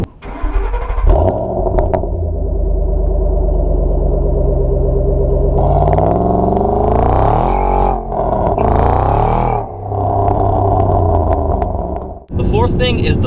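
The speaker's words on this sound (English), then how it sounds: "you got the supercharger whine, and it sounds like pure American V8" Supercharged Shelby GT500 V8 idling with a deep rumble, then revved in a few rising and falling pulls with a whining note over the exhaust, close by, with people talking at times.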